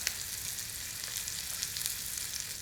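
Fillet steak sizzling in a hot pan, a continuous fine crackle and hiss with small spitting pops, moderately quiet and close, with no talking over it.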